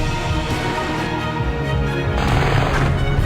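A Panzerkampfwagen tank attacks in the Frontline: Road to Moscow war game, with dense, continuous rumbling blasts and booming gunfire at a loud, steady level throughout.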